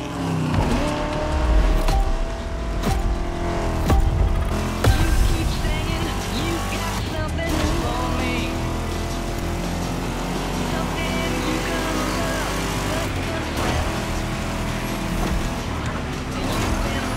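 Vintage cars race in the driving game The Crew Motorfest, with engines roaring loudly and continuously and brief tire squeals rising through the steady drive.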